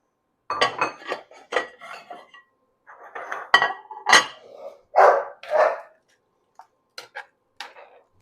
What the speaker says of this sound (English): if you can hear the dogs barking